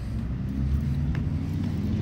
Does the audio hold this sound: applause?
no